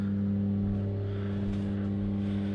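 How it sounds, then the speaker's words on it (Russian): A steady low motor hum drones continuously throughout, even and unchanging, fairly close. "Сейчас тут моторчик будет шуметь"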